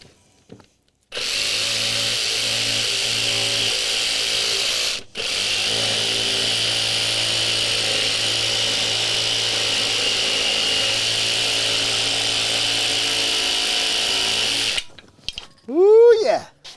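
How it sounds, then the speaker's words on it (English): A chainsaw runs loud and close in a workshop during a mandolin build, a steady high buzz held for about fourteen seconds with one brief dip, followed by a short bit of talk. "Excuse me, chainsaw."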